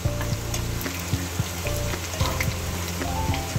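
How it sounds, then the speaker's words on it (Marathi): Ginger and garlic roast in a pan over a slow flame, giving a steady, close sizzle with scattered crackles and soft stirring scrapes. "तर हे आपण स्लो फ्लेमवरती छानपैकी भाजून घेणार आहोत"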